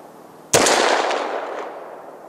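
A single very loud, close gunshot from a 500 S&W Magnum revolver cracks sharply, then rings out in a long decaying echo.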